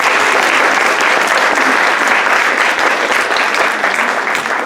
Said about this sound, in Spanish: Los pedimos con un fuerte aplauso,